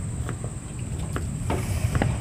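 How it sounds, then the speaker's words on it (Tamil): A hot murukku mould pressed into frying oil gives a soft, steady sizzle with light crackles and pops, close and fairly quiet, with a faint high whine running underneath. "இப்போ வைக்கும்போது சொர சொரப்புன்னு சத்தம் கேட்குதுல"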